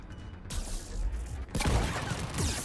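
Gunfire crackles in rapid bursts during a Mass Effect 3 firefight, two loud volleys close together with dense, noisy shots.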